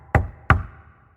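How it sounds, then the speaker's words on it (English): Two firm knocks on a door, close and loud, evenly spaced about a third of a second apart, each with a short hollow ring dying away. "So I knocked on the door."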